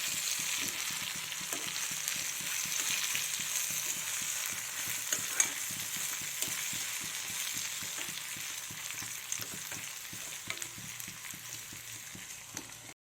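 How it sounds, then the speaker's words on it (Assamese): Fish curry simmers in a pan on the stove, giving a soft steady sizzle and bubbling hiss with faint irregular pops, fairly quiet and continuous with no talk. "আঞ্জাখিনি আমাৰ উতলি গ'ল ধুনীয়াকৈ।"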